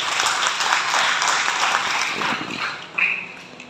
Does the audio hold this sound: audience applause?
yes